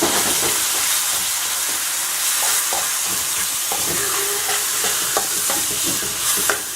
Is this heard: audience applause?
no